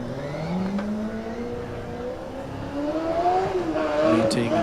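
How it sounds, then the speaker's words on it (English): An electric driverless Formula Student race car whines as it pulls away on an autocross course, its pitch rising steadily while a voice talks over it. "and the car sets off."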